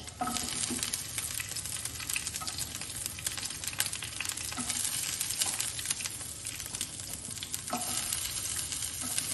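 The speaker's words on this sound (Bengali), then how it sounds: "এবারে এগুলো একটু ভাজা ভাজা করে নেব" Onions fry in ghee in a frying pan over a gas flame for chicken dopiyaza, giving a dense, continuous sizzle with steady stirring and scraping close by.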